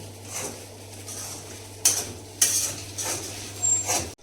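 A spoon stirs sweetened Ekadashi fasting food in a metal pot, giving a few clinks and scrapes against the pot over a low steady hum, with no talking.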